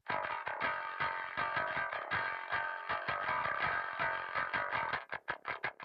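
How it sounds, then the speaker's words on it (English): Distorted, gritty bass notes with only the upper harmonics, the top end run through a guitar rig on a Darkglass Anagram, played in a steady run of plucked notes that ends in short staccato hits. "The top end runs through basically a guitar rig and on its own sounds like this."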